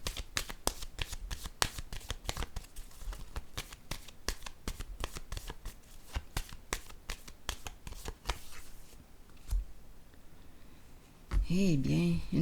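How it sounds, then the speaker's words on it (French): Tarot cards are shuffled and laid down by hand in a series of quick, crisp snaps and slides, close and fairly loud, followed near the end by a short burst of brighter, wavering sound. "Je vais déposer une autre carte ici."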